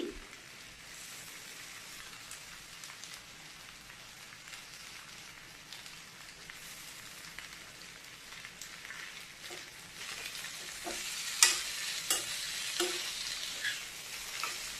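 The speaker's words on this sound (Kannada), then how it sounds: "ಕೊತ್ತಂಬರಿ ಸೊಪ್ಪು ಹಾಕಿ ಒಮ್ಮೆ ಮಿಕ್ಸ್ ಕೊಟ್ಟರೆ ಆಯಿತು" Fresh coriander leaves stirred into food frying in a pan, a soft continuous sizzle with scraping spoon strokes that grow louder and more frequent toward the end.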